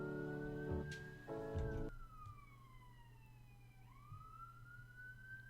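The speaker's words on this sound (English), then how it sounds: "that ambulance is getting ready." An ambulance siren wails in a steady rising and falling sweep, fairly loud and alone after a short burst of other sounds at the start.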